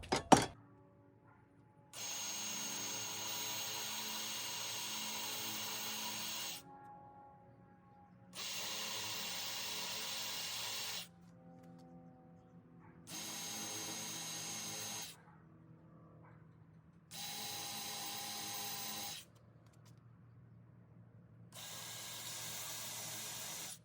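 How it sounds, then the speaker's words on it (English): A power drill bores holes into wood for outdoor furniture in five separate bursts of several seconds each, with quiet pauses between them. "that's where I'll drill my holes"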